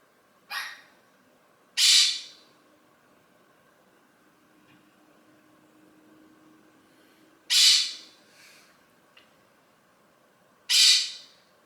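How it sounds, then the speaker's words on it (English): A bird calls close by in four loud, brief bursts spread irregularly over about eleven seconds, with quiet background between them. "Yep, that's the camera bird."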